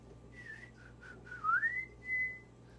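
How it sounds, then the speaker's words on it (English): A person whistles a short tune, a few brief notes followed by a rising slide into a held tone, faint and a little wavering, alone against quiet background hum. "Still can't whistle very well right now"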